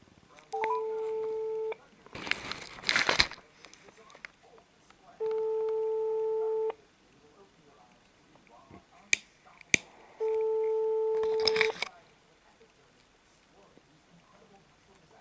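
A landline call rings out with three long electronic ringing tones separated by pauses, heard through the line, with clattering handling noises between the rings.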